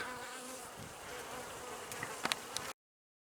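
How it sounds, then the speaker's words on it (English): Bees from Avalon Gardens in the Cholla Forest drone steadily in a dense swarm at the hive, close and continuous, with a few louder individual passes near the end before the sound cuts off. "We have bees from Avalon Gardens in the Cholla Forest."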